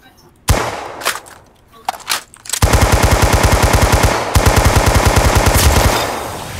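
A gun in Roblox Arsenal fires, first a few scattered single shots, then a long, rapid automatic burst of evenly spaced loud cracks that runs for several seconds before easing off.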